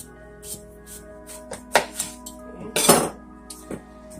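A knife cuts the ends off a butternut squash on a board, a few sharp irregular knocks and clicks over a quiet kitchen background.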